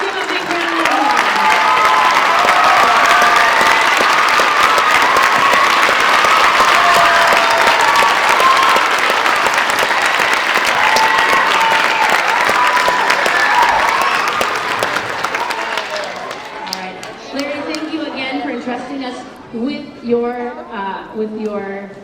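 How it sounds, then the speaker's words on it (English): An audience at a Spanish immersion school event celebrating elders gives a loud, sustained round of applause for about fifteen seconds; it fades out and a voice then speaks over the quiet room. "Let's give him a big round of applause."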